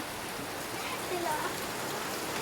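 Steady rain pours down in a dense, even hiss of drops on surfaces, close and continuous for the whole moment.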